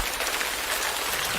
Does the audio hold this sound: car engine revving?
no